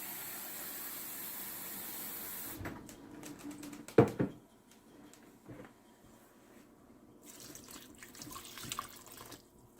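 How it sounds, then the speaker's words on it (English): Warm tap water pours into a sourdough bread mix, a steady broadband rush for about two and a half seconds, then a short splash and faint trickles and small clinks. "The next thing we will do is put 1 more cup of warm tap water in."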